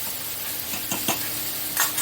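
Jute leaves (pat shak) fry in a pan, a continuous bright sizzle close by with a few short scraping strokes from stirring.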